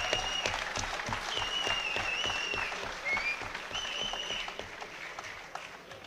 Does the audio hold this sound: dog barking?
no